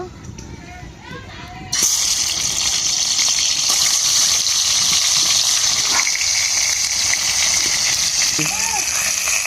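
Fish, tilapia among them, drops into hot oil in a pan, and a loud, steady sizzle starts abruptly and holds close and continuous. Someone speaks over it in Bengali.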